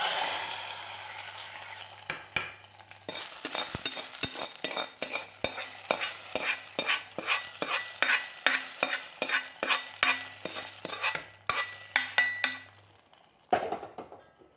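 A spoon stirs a lentil, spinach and jackfruit-seed curry after tempered mustard seeds go in, with a long regular series of distinct clinks and scrapes against the pot over a soft sizzle, close and steady.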